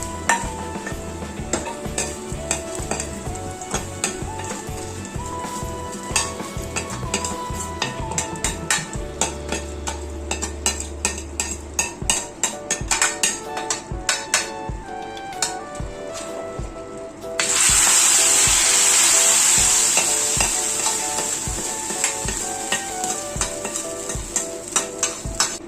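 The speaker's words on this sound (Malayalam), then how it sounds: "കടുക് താളിച്ചതെല്ലാം കൂടെ ചേർത്ത് അങ്ങോട്ട് നല്ലപോലെ ഇളക്കി അങ്ങോട്ട് മിക്സ് ചെയ്യണം." Beef being stirred and fried with onions and mustard seeds in a pan, with rapid repeated scraping and clanking of the spoon against the pan. Later a loud, steady sizzle takes over from the stirring.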